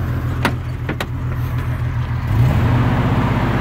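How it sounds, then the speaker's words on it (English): Jeep SJ engine with a miss, idling close by with a couple of sharp clicks, then rising into a louder rev near the end; no one talks. "Hear the hesitation on there?"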